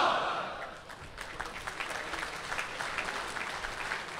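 An audience applauds the Malaysian national poet Dato' Samad Said after a poetry reading in a hall, a brief louder swell fading into a sustained, fairly even crowd clapping that carries on to the end.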